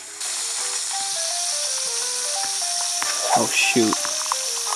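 Fries cooking in a pan, a steady bright hiss of sizzling running throughout under music-like tones, with a voice speaking briefly near the end.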